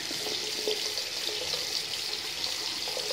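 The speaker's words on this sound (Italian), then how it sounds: "però perde proprio tanta acqua fuori" Water runs steadily from a kitchen faucet fitted with an LED filter attachment, leaking out around the filter, a constant close hiss and splash into the sink with no one speaking.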